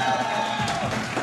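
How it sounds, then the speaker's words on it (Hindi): Applause from a large studio audience at a Pakistani comedy game show, a dense burst of clapping with some cheering that runs straight through a short moment. "7 मर्दों के लिए तालियां बजा रहे"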